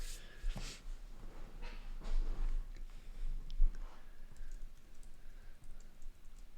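Someone typing on a computer keyboard at a desk, a quiet, close, irregular clatter of keystrokes in short bursts.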